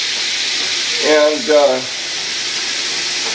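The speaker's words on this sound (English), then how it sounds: "when you add a little bit of water, it's going to sizzle" Water splashes into a hot pan holding steak and bursts into a loud steamy sizzle that hisses on steadily afterward, with a voice speaking briefly over the start.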